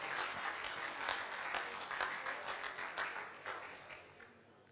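A crowd applauds as a boxer enters the ring at a fight night, a faint, fairly distant patter of clapping that swells and then gradually thins out, with no voices over it.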